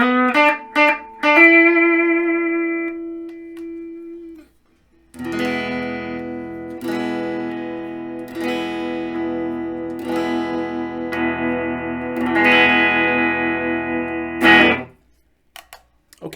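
Electric guitar on a Fesley FDK-800 played through its humbucker pickup, clean tone: a quick strum and sustained note, then several ringing strummed chords that decay, loud and close, with no talking.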